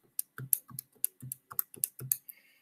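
Keys on a graphing calculator are pressed to enter a list of values, a close, steady run of about a dozen light plastic clicks and taps with no talking.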